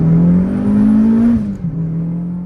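A daily-driven Honda Civic Hybrid swapped to a turbocharged K24 running on Honda K-Pro idles and revs close by, a strong steady engine drone that rises in pitch, then drops back as the throttle closes.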